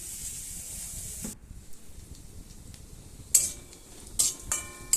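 Chopped garlic and onions fry in a pan for a spiced pointed-gourd chutney. A steady close sizzle runs for about a second and then cuts off, followed by quieter scattered metallic clinks and taps.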